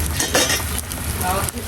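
Eggs being stirred through a curry in a pan, a close, continuous scraping stir with soft sizzling and light clinks of a utensil against the pan.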